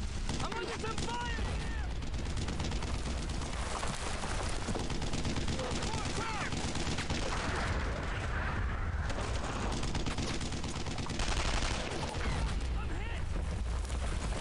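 Sustained gunfire from the World War II shooter Brothers in Arms: Earned in Blood, with dense bursts of rifle and machine-gun shots and explosions filling the whole stretch, while voices shout over the din.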